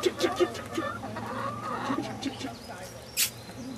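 Farmyard chickens cluck and murmur in short bursts close by, with a duck nearby, ending in a brief louder squawk; a voice speaks faintly underneath.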